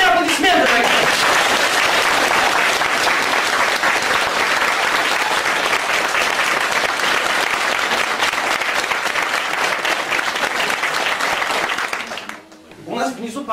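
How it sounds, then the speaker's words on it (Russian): A studio audience gives a loud, sustained ovation for the host's team, a thick roar of clapping that runs unbroken for about twelve seconds before dropping away to a brief voice. "Мне нужны ваши бурные аплодисменты, моей команде."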